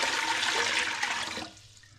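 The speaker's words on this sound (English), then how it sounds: "so in goes the water" Water pours into a larger vessel for mixing flavoured gin, a loud gushing splash that runs steadily then tapers off to quiet trickling near the end.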